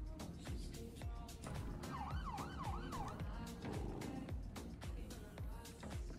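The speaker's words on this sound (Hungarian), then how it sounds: "Sziréna rendszer a motoron is működik." A police motorcycle siren in a roleplay video game wails in a fast rising and falling yelp, steady and fairly loud over engine rumble and thumping background sound.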